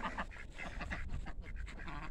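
A small flock of ducks on a rural homestead quacking close by in quick, overlapping calls that continue without a break.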